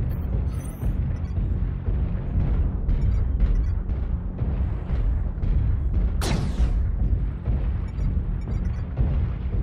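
Missile explosions rumble almost without pause in a mech combat video game, a dense, loud barrage of booming impacts with one sharp, bright blast standing out near the end.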